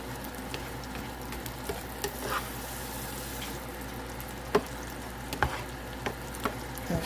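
Sweet corn fries in butter in a pan with a constant sizzle, and occasional sharp clicks and scrapes from stirring break through the crackle.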